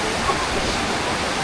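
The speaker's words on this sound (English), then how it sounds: "The sound of the waterfall was like music" Bambarakiri Ella waterfall in Sri Lanka rushing in a steady, dense roar of falling water, close and continuous throughout.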